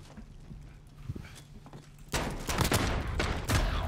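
Video game gunfire erupts midway in a rapid burst of close, loud shots after quieter footsteps and ambience, continuing in uneven volleys to the end.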